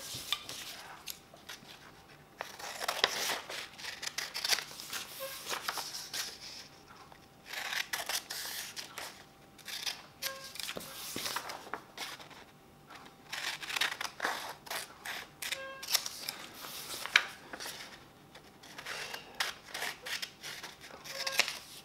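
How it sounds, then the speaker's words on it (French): Paper number labels being cut with scissors while preparing classroom materials: close, repeated snipping in bursts of quick cuts with short pauses, continuing for about twenty seconds with no talking. "Je découpe."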